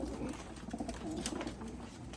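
Racing pigeons coo softly and repeatedly, a faint, close chorus of low throaty calls over a quiet background.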